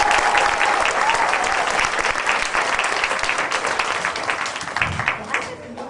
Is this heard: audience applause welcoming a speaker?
yes